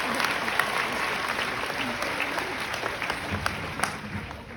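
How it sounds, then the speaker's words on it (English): A crowd at a Fan Expo Stranger Things panel applauds in a big hall, a steady round of clapping with scattered voices and a few whoops mixed in. "Let's give them a big round of applause."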